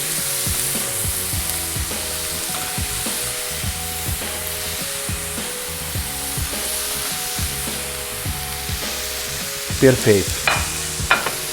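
Eggplant frying in a pan alongside salmon and zucchini, a steady loud sizzle with repeated rhythmic stirring scrapes and a brief louder crackling flare near the end; a voice speaks briefly.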